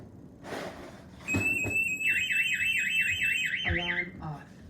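A SimpliSafe home alarm keypad's panic button sets off a loud, warbling electronic siren with high steady tones, rising sharply after a brief click and holding steady before cutting to a short beeping pattern.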